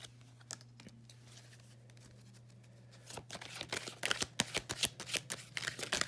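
Tarot cards being shuffled and drawn for a reading: quiet riffling and soft card handling at first over a steady low hum, then a louder, rapid run of crisp card flicks and slaps in the second half.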